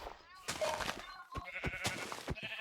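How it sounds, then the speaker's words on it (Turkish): Sheep bleating in the video game Minecraft, a few short bleats overlapping with someone talking close by. "siyah koyun"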